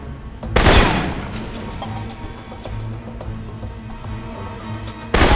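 Rifle shots in the video game Alpha Protocol: a loud, close blast near the start, sparse lighter cracks and clicks scattered through the middle, and another sharp shot right at the end.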